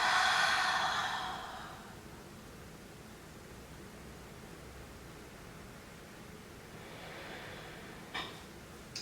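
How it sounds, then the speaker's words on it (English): A long open-mouth exhale during a calm yoga flow: a breathy whoosh that starts fairly loud and fades over about two seconds, then quiet room noise and a fainter breath near the end. "let me hear that open mouth,"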